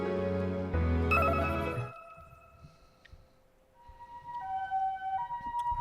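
Ambulance siren in a visual novel video game, a loud wailing tone at the start that cuts off abruptly, followed by quieter tonal game music or chimes alone.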